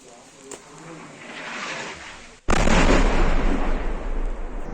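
Enemy artillery fire in a combat zone, a faint rising rumble followed by a sudden loud blast at about two and a half seconds that rolls on as a heavy sustained roar.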